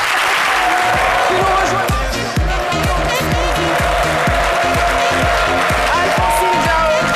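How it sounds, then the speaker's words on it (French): Sustained loud applause from a TV studio audience, dense clapping throughout, with a person speaking briefly over it. "merci d'applaudir très fort"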